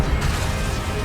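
A spell blast from Hogwarts Legacy on PS5 during the Pensieve Guardian boss fight, a short dense crash-like whoosh with heavy low rumble lasting about a second.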